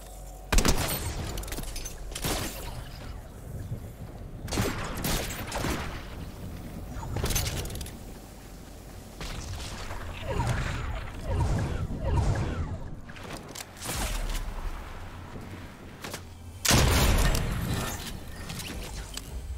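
Gunfire in the video game Fortnite: scattered sharp shots and short bursts, some booming, with a steady layer of game sound between them.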